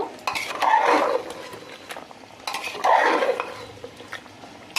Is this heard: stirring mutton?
yes